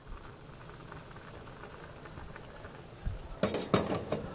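Soft bubbling and hiss from a pot of sapsap (pony fish) stewing in tomatoes, then a few sharp clinks of a utensil against metal near the end.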